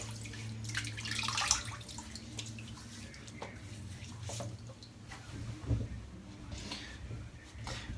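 Water wetting a head before a shave, running and splashing close by over a low steady hum, with brief drips and a louder splash partway through.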